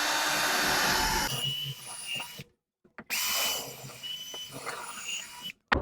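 A power drill bores pilot holes into wood for a kitchen wine rack, giving two sustained whirring bursts of about two and a half seconds each, close and loud, separated by a short silent pause.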